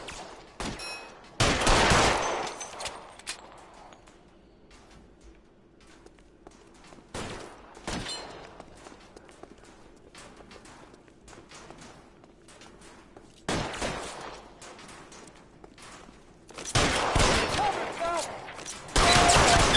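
Gunfire in a detective video game arrives in sharp bursts, with several loud volleys spread through the stretch and a heavier barrage near the end.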